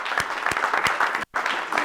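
An audience at a leadership talk breaks into a dense, loud round of applause, steady hand claps filling the room, cut by one brief silent gap before the clapping resumes.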